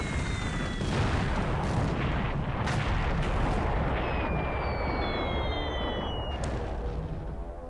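Heavy 500 to 1,000 pound bombs bursting on battleships in the War in the Pacific naval war game: steady loud rumbling blasts with overlapping booms and falling whistles, continuous and dense, no talk.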